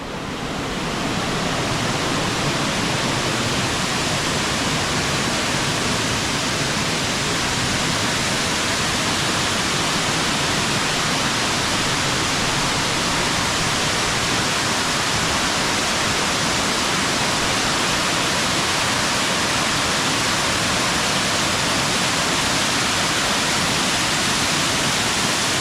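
A waterfall at South Chagrin Reservation, Ohio, roars as a loud, unbroken broadband rush that stays constant and close for the whole stretch.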